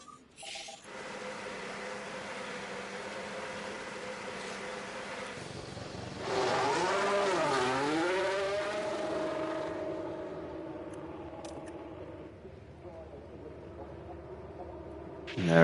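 A Brabham-liveried F1 car engine in the F1 Manager 24 video game, a steady high whine that rises in pitch as it revs and passes, then settles back to a droning tone.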